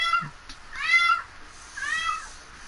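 Pet cat meowing indoors, two drawn-out rising-and-falling meows with a faint chirp at the start, close and clear, with a voice faintly in the background.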